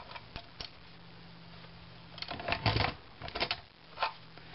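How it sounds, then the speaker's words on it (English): A Bind It All binding machine punches holes through fabric-covered recipe book material, giving faint clicks followed by a louder mechanical crunch and a few more clacks, with no talking. "let me get the last few holes done."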